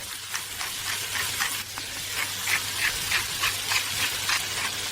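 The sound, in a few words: onions sautéing in a pan for onion meatloaf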